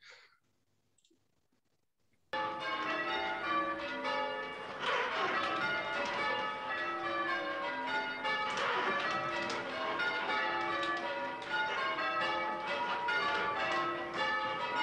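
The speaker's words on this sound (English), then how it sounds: "There are bells ringing together and crunching on top of each other" Church bells peal together after a brief quiet start, clashing and overlapping in an uneven, jumbled rhythm, loud and continuous.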